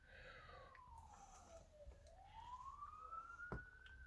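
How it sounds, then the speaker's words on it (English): A siren wails in the distance, its pitch sweeping down and then rising again, steady and moderately faint behind a background hum. "You can hear an ambulance or police or something in the background."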